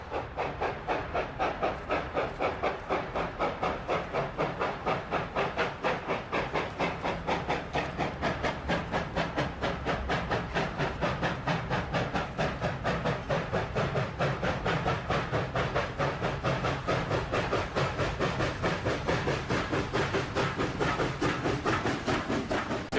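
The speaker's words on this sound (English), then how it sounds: "There's an Alco RS 32 is on the point to make sure everything goes okay with this locomotive going up the Ruby Creek grade." Alco RS 32 diesel locomotive hauling a train upgrade out of Ruby Creek Tunnel on the Elk Valley line, a steady loud rumbling roar with rhythmic clatter of wheels and cars continuing without pause.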